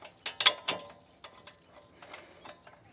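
Bolts on a front brake caliper bracket being tightened with a hand ratchet, giving a few quick, close clicking bursts at first, then quieter scattered ratchet clicks.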